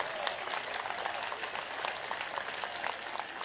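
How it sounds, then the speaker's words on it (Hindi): An audience applauds at a university convocation ceremony, giving a steady, dense wash of clapping from many hands throughout, moderately distant and with no voices over it. "तो एक बार तालियों के गड़गड़ाहट से स्वागत कर दीजिए।"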